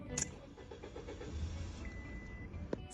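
A car engine cranks briefly and struggles to start, a short run of uneven starter chugs, faint and close, followed by quiet and a clunk.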